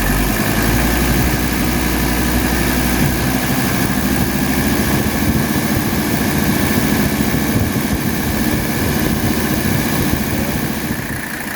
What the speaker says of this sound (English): Wow, look how smooth it's idling.